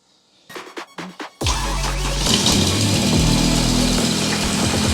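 BMW V10 engine with a fuel pressure fault, a few quick cranking bursts that then catch into a loud, steady running roar.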